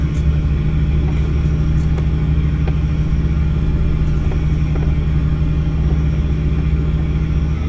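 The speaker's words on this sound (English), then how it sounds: "About hearing that engine purr." A deep, steady truck engine rumble idles continuously with strong low bass, loud and close, with no talking.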